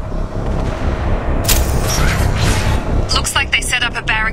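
A loud explosion blast in Mass Effect 2 roars as a broad burst of sound, followed by crashing debris and harsh crackling under a steady background rumble.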